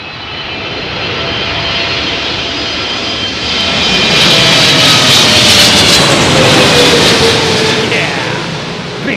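An American Airlines Boeing 777 on windy arrival at Heathrow makes a loud, continuous jet roar that builds and swells toward the middle and then eases slightly, with wind rumble beneath.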